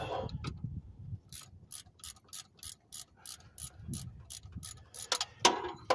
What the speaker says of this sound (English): And then go ahead and tighten this bolt.